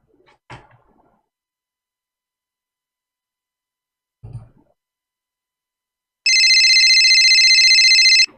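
A mobile phone rings with a bright, buzzy electronic tone that sounds in one continuous burst of about two seconds. Two soft knocks come earlier, separated by long silences.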